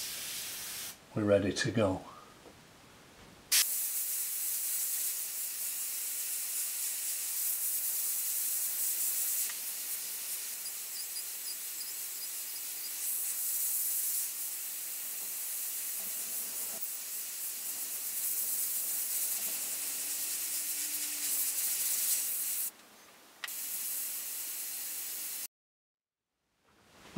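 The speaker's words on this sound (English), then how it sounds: "So I just spray that bit out" A steady airbrush hiss sprays paint continuously for most of the clip, clearing paint from the nozzle for miniature painting, briefly interrupted by a short spoken phrase near the start, then cutting off at the end.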